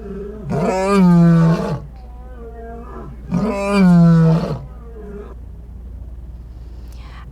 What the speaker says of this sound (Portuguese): o rugido de um leão, que é um som grave